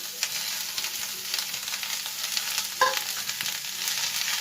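Fried egg being stirred into egg noodles in a hot pan, a continuous close sizzle with soft scraping stirs and a brief sharper clink near the end, no voices.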